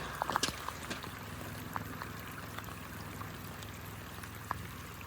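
Floodwater flowing through a flooded crawler yard in a paddock valley, a faint, steady trickling and pouring wash with scattered small splashes and drips, fairly distant and quiet.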